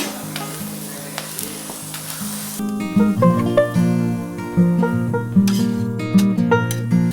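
A chapati cooks in sesame oil on a pan, a steady close sizzle with occasional flips and presses, partly beneath prominent background music.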